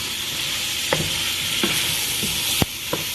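Potatoes with garlic searing in butter in a hot pan, a steady, fairly close sizzle with several sharp scraping knocks from stirring scattered through it.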